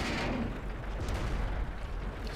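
A tank gun in World of Tanks, the Tiger P, fires a heavy, booming shot, a deep blast that rolls out into a dense, sustained rumble filling the whole stretch.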